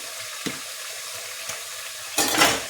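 Chicken for korma cooking in a pan, a steady low sizzle with a couple of soft knocks, then a louder burst of frying or stirring at the end.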